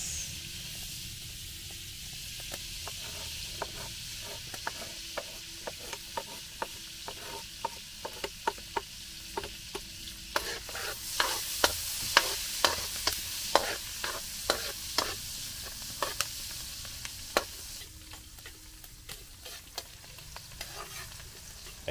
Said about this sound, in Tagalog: Magigisa po tayo ng bawang at sibuyas.